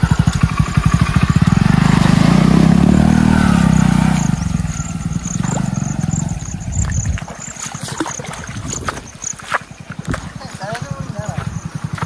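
A motorcycle with a water-soaked silencer drones loudly for about four seconds, then settles into a lower, uneven running sound while people talk over it.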